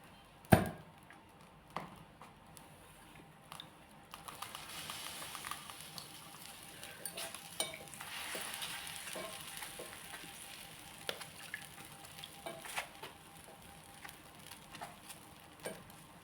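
Vegetables sizzling on a hot tawa griddle, a quiet steady frying hiss with scattered clinks and stirring taps, one sharp knock near the start.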